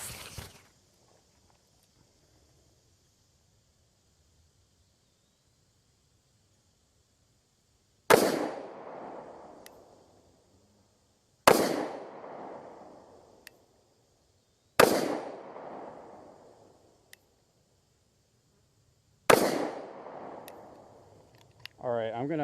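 Five sharp gunshots from an FN firearm at an outdoor shooting range, spaced a few seconds apart after a long quiet stretch, each loud crack trailing off into a ringing echo.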